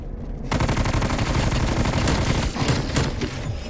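Loud, continuous automatic gunfire from a zombie-shooting video game plays nearly the whole time. It begins after a short lead-in and comes as rapid, unbroken bursts with no talking.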